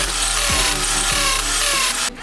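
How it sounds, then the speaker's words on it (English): A loud, grinding power drill runs continuously at close range, boring mounting holes for a garden hose reel bracket with a steady, rough whine. "Drill holes according to the bracket hole position."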